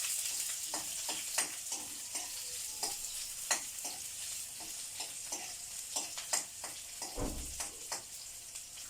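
Chopped onions stirred and frying in hot oil in a pan, a steady soft sizzle punctuated by repeated scraping clicks of a spoon, fairly close and moderately quiet.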